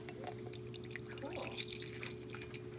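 Coffee pours from a French press as a faint trickle with scattered drips over a steady background hum.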